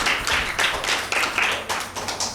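Clapping from a quiz audience cheering a correct answer at a Mother's Day Bible quiz, a steady patter of hands with bursts of louder claps, moderately near and without talk.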